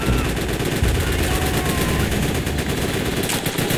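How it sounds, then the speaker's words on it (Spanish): Enemy machine gun fire in Call of Duty: World at War rattles on without pause, loud and dense, with overlapping shots and battlefield noise filling the whole stretch. "¡Ametralladora enemiga!"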